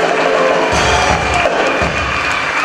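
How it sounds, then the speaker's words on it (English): A church anniversary congregation claps and cheers, a steady loud roar of crowd noise with clapping and a few low thumps mixed in, sustained throughout. "We need to clap for that."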